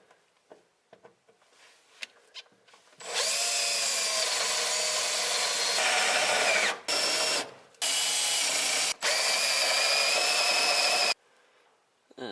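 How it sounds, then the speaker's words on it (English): A power drill bores out spot welds on a car chassis, loud sustained whining runs broken by short pauses, close up, after some light clattering of tools. "wherever it's attached with spot welds, drill those out"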